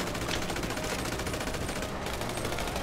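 Continuous automatic gunfire in GTA 5, a rapid, unbroken machine-gun rattle at a steady level with a brief dip near the end.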